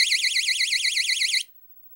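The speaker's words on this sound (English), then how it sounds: "when I put the flag in there and then activate the alarm, if someone tries to take it" A homemade anti-theft flag alarm blares a loud, steady warbling electronic siren, pulsing rapidly and evenly for about a second and a half before cutting off abruptly into silence.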